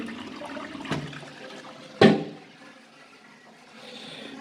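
A new toilet in a small bathroom with a plastic-lined shower cubicle, heard as a brief watery rush after a faint knock, followed by a low, fading trickle, close by and without any voices.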